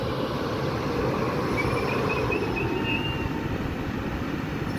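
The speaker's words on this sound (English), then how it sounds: "350-110 is now departing to Birmingham from London." A Class 350 electric train, unit 350 110, departs the station, a loud continuous rumble of wheels and traction with a thin rising whine and faint squeal layered over it.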